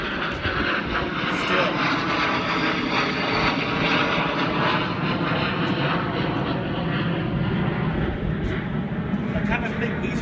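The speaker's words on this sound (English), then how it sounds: "I kind of think these videos wouldn't be complete without at least one plane flying over." An airplane flies overhead, its engine drone a steady, fairly loud roar that fills the whole stretch while someone talks over it.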